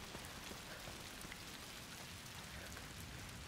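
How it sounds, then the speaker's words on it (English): Steady rain falls in A Plague Tale: Requiem, a dense, even hiss of drops that holds unbroken and moderately loud throughout, with no voices. "Why are you standing in the rain?"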